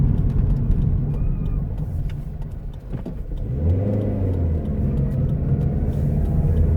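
A car driving through Watcombe near Torquay heard from inside the cabin: a steady low engine and road rumble that swells briefly as the car accelerates, loud and continuous with no talking.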